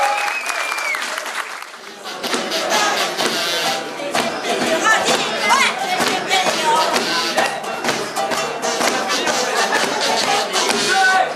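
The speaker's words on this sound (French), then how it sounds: "Vous pouvez encore les applaudir pour leur courage" A festival audience at a Donjon de Naheulbeuk event applauds and cheers the candidates, loud dense clapping with scattered whoops that swells after a quieter opening with a brief voice, then continues strongly.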